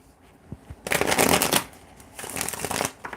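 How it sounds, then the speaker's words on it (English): A deck of tarot cards being shuffled: faint handling at first, then a loud riffling rush, a pause, and a second shorter riffle, close by with no talking. "let's go ahead and get one more shuffle and then go in."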